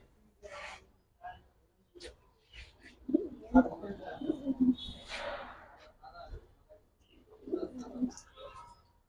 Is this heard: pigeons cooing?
yes